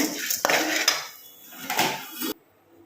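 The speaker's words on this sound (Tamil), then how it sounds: "இது தனியாக ஒரு தட்டில் நான் ஆற வச்சுக்கிறேங்க" Roasted chutney ingredients scraped from a pan onto a plate, with a clatter of metal utensil strokes against cookware over a few seconds, ending abruptly in near silence, with no speech.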